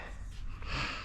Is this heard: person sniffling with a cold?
yes